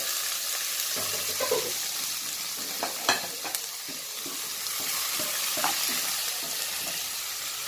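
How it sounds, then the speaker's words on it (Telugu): Cluster beans stirred with fried onions in a pan: continuous loud sizzling under repeated scraping and clacking of a spoon against the pan, with irregular knocks throughout and no voices. "గోర్ చిక్కులు వేసాక ఈ విధంగా కలుపుకోవాలి"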